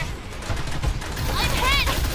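Gunfire in the video game Farlight 84 rattles in a dense fusillade under a continuous noisy wash of battle sound, with a whining, warbling effect rising near the end.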